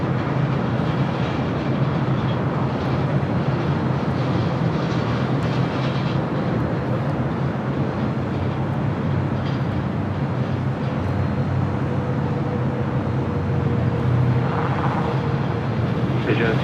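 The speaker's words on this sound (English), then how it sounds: "up next for takeoff, ITA A350-900 heading back to Rome" An ITA Airbus A350-900 taking off at LAX bound for Rome, a loud, steady, broadband jet roar that holds for the whole stretch with only slight swells.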